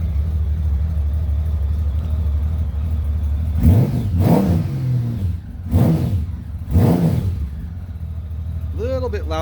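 Honda Valkyrie motorcycle fitted with a custom exhaust and silencers revving, with three strong throaty bursts over a steady low idle rumble, close and fairly loud.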